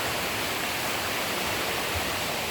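A small stream flows steadily on the way to a pool outing, its water making a continuous, even broadband rush with no distinct splashes. The sound is close and moderately loud, heard alone without any voices.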